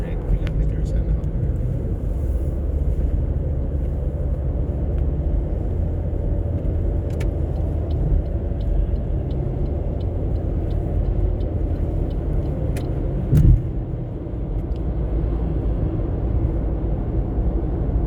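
Car engine and road rumble as a vehicle drives onto a highway, a steady low drone throughout with a brief bump near the end and a voice speaking over it.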